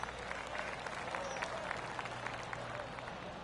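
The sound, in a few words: golf clap, polite applause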